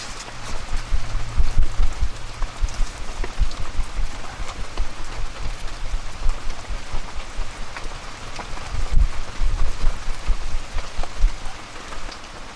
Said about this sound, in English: It's nice walking in the rain though, quite refreshing.